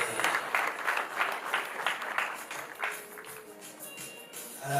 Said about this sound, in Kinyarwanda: tubakomere amashyi menshi cyane rwose